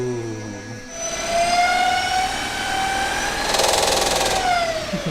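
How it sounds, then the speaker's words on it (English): Small electric motor on a homemade electric ultralight aircraft spins up with its small propeller, a rising whine that holds steady at a loud, close, continuous level, surging briefly stronger before easing. "I installed all the electronics and stuff and fired up the motor"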